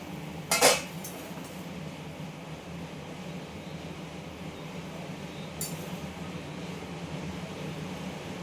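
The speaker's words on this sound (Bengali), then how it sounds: "এবার ঢাকনাটা খুলে দেখি সবজিটা আমার সেদ্ধ হয়েছে কিনা।" A lid comes off a cooking pot of simmering potato and vegetables with one sharp metallic clink near the start and a fainter clink later, over a low steady kitchen hum.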